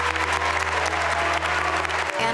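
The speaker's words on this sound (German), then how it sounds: "Bitte begrüßen Sie ihn mit einem herzlichen Applaus" A crowd applauds loudly and steadily, a dense wash of clapping that continues throughout.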